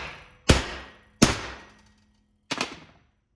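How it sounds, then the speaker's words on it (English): Three sharp, loud metallic hammer taps ring out as a U-joint is fitted into the yoke of a CV driveshaft being rebuilt. Each strike is close and decays quickly, and the strikes are spaced unevenly. "may sound loud or like I'm hitting this hard, but I'm really not. It's just smooth, quick taps."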